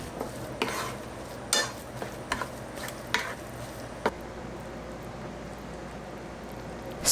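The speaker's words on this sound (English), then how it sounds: "When the eggs are half cooked, mix them with the carrot" Half-cooked eggs being stirred together with carrot in a frying pan, with soft scraping and clinks of a utensil against the pan over a faint low sizzle, steady and close with no talking.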